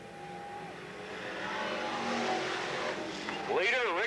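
Stock cars race at Riverside Speedway in Cottage Grove in 1993, engines roaring and swelling as they pass while an announcer calls the action over a crowd's background noise, with a rising, wavering engine whine near the end.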